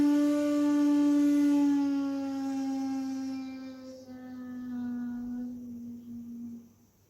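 A single low bamboo flute note, ro, sustained for about seven seconds, breathy and steady, slowly fading at the end.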